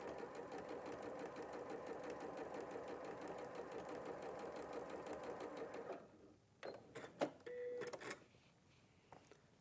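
A sewing machine stitches along a line on patchwork fabric for a sashiko cushion, a fast steady mechanical whir for about six seconds before stopping, followed by a few quiet clicks and handling sounds.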